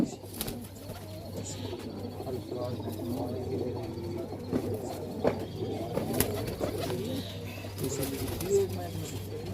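Punjabi Malwai pigeons coo in soft, repeated low calls close by, with occasional wing flaps and faint chirps, while voices talk intermittently in the background.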